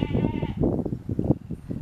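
A sheep bleats up close, a wavering nasal cry followed by rougher bleats that blend with other nearby sheep.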